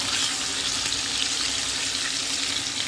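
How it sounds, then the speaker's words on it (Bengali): Prawns frying gently in oil in a pan, a steady, dense sizzle that stays constant and close throughout with no talking. "চিংড়ি মাছগুলো এবার আমি ভেজে নিচ্ছি।"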